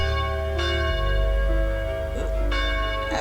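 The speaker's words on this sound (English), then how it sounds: "What's the bell for?" Church bell rings at a Christmas-time village gathering, two or three resonant strikes with long humming overtones that ring on and overlap.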